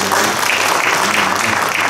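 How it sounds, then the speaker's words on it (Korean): Applause from the audience at a Bucheon Honam hometown association inauguration ceremony, a steady dense wash of clapping that holds at an even level for two seconds. "다시 한번 큰 박수 부탁드립니다"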